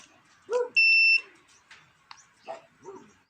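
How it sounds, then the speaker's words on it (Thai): A homemade push-pull sine wave inverter gives a single sharp electronic startup beep, steady and about half a second long, between faint clicks and brief handling noises. "จะมีเสียงปี๊บหนึ่งครั้งนะครับ"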